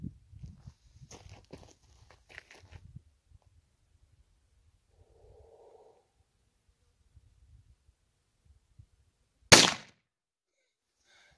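A single sharp, loud crack from a Derringer pistol rings out after a long quiet stretch with faint shuffling footsteps, then decays quickly.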